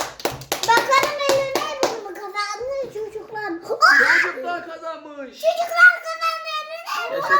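Children clap during a Hello Neighbor / Secret Neighbor gaming session: a quick burst of sharp, evenly spaced claps up close, then children's voices talking and squealing.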